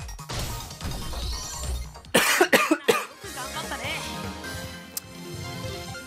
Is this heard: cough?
yes